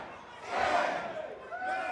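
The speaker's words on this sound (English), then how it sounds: "As the crowd counts along" A wrestling crowd at a live CCW event chants and counts along as punches land, a swelling roar of many voices in the middle of the clip, with a commentator's voice over it toward the end.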